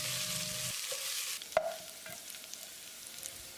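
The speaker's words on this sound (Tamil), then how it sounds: "வெங்காயத்தை நல்லா பொன்னிறமாக வதக்கணும்" Onions sizzle softly in a pan while being stirred, a quiet hiss with a spoon scraping and a sharp clink partway through.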